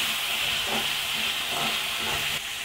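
Salted vegetables sautéing in a pan for a kalinga mural fish curry, a steady, close hissing sizzle with faint soft stirring bumps underneath, no voices.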